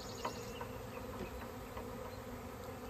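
Honeybees swarm around a hive during the hiving of a swarm, making a dense, steady buzz close by with faint individual wingbeat passes and no talk.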